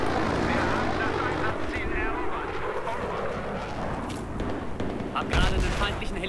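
Battlefield 3 multiplayer battle with an enemy helicopter overhead: dense, continuous rattling gunfire and explosive bursts over a steady rotor-like rumble, loud and close throughout, with a heavier blast near the end.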